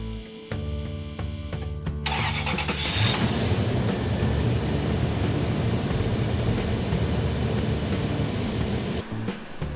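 A Land Cruiser engine cranks briefly, then catches and settles into a loud, steady rumbling idle that continues to the end.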